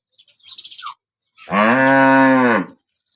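A dairy cow lowing once, a long loud sustained moo close by, preceded by a brief burst of chirping birdsong, no voices.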